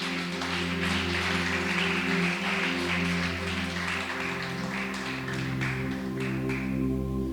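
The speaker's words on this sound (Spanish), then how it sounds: "Dale un fuerte aplauso al Espíritu Santo." A church congregation claps steadily and loudly throughout, the applause layered over sustained keyboard or organ chords that keep playing underneath.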